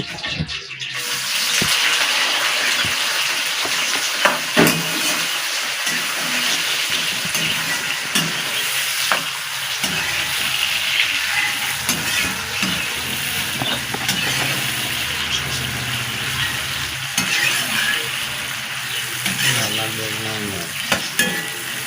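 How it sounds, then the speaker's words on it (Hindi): Onion, garlic, ginger and tomato frying and being stirred in a kadai, a steady loud sizzle with occasional scraping stir strokes running throughout, no talking. "तो अभी हम प्याज को करेंगे फ्राई।"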